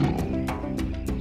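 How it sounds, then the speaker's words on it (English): A pride of lions roars and grunts in deep, rumbling bursts, several loud calls overlapping close by with no talk. "Here are some members of a pride of lions."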